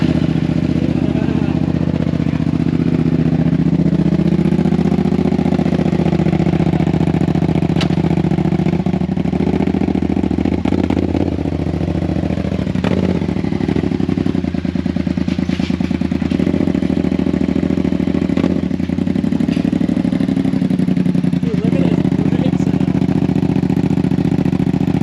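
A Harley-Davidson motorcycle engine runs steadily with a low, loping rumble close by, holding a constant drone throughout while people talk over it.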